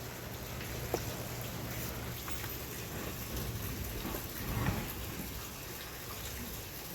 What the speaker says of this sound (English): It's a little cold still this morning. Freezing rain outside